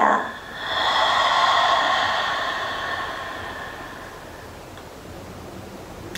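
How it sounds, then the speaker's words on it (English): A slow, soft exhale out through the mouth during a restorative yoga session, a close breathy rush that swells over a second and gradually fades away. "Exhale out the mouth."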